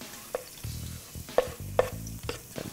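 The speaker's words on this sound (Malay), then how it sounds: "Okey, kita goreng bagi dia layu sikit je." Shallots and garlic fry in a rice cooker pot with soft sizzling, broken by several sharp scrapes and knocks of stirring, close and fairly quiet, with no talking.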